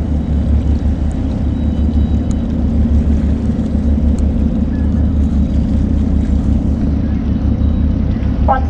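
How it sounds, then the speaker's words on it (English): The 826-foot lake freighter Lee A Tregurtha, built in 1942, departing Duluth empty, gives a steady deep low rumble of engines and water, loud and constant throughout, with wind buffeting the microphone. "The Tregurtha is departing empty today and is heading to Marquette to load iron ore pellets."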